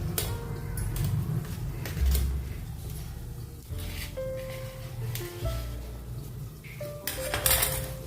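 Vegetables being cut for dal patoli in a home kitchen: a knife taps and scrapes against metal dishes and utensils, with clinks and clatters rising over a steady low background hum, close and fairly loud.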